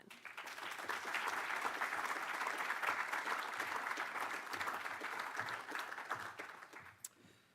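An audience breaks into sustained applause at a city leaders' summit as Mayor Sadiq Khan is welcomed, steady clapping swelling quickly, holding for several seconds and then thinning out.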